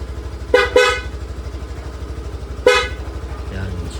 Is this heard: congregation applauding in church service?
no